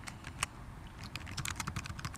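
Quick, light clicks of typing on a computer keyboard, irregular and faint, in a quiet room with no talking.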